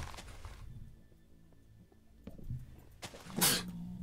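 A single sharp sneeze bursts out near the end, after a few softer breathy sounds and quiet stretches.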